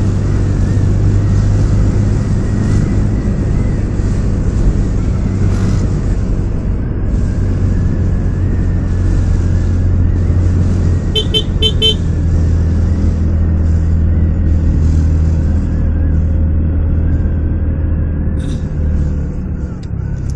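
An engine left unstarted for a long time runs again in a loud, continuous low rumble that holds steady throughout, with faint clicks and rattles above it.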